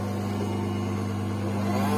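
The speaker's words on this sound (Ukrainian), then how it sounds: "позаду у нас є ось такий от двигун, який і створює рух саме даного конвейера" The conveyor motor of a JET JWDS-1020-M drum sander runs at full speed, giving a steady, close, low hum with a constant pitch and an even whirring drone.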